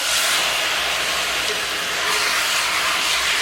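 Brown sugar and butter sizzle loudly on candied sweet potatoes in a pan, a dense, continuous hiss that stays steady throughout with no talking.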